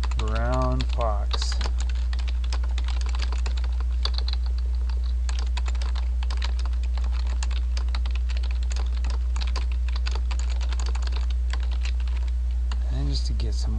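Text typed on a computer keyboard in a continuous stream of rapid, close keystrokes over a steady low hum, with a voice briefly speaking at the start and end.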